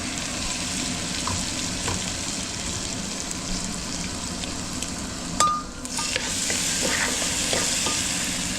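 A paste of ground clove, black pepper, cinnamon, garlic, ginger, coriander and coconut sizzles steadily in a pan while being stirred for bajra khichda, with a brief louder burst of frying midway.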